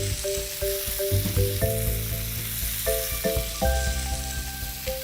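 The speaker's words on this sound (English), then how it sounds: "All I'm doing with these chicken breasts is getting them golden brown on each side" Chicken breasts fry steadily in butter and oil in a pan, browning on each side, with a loud continuous sizzle and crackle and occasional stirring or utensil clinks, and no voices.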